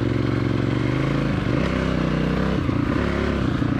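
Aprilia RXV 550 supermoto engine running close by, a loud steady mechanical drone with a dense low throb, dipping briefly in pitch around the middle and again near the end.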